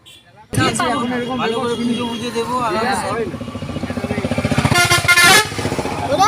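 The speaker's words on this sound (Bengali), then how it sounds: "কি হর্ন বাজিয়ে গেল।" After a brief quiet start, a vehicle horn blares loudly over an engine and people talking, with a long sustained honk swelling near the end.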